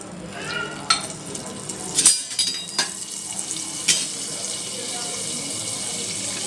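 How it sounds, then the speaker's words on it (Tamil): Butter frying in a pan while cooking a one-pot betel leaf garlic rice, a steady sizzle with a few sharp clinks and splashes from utensils, close and moderately loud, no speech. "அது பட்டர் நல்லா பொரிஞ்சிச்சு"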